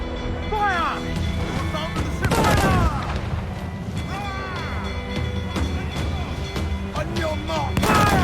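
Ship cannons in the video game Assassin's Creed IV: Black Flag boom in loud repeated volleys, with heavy blasts near 2.5 and 8 seconds over a constant rumble of battle, while voices shout over the gunfire throughout.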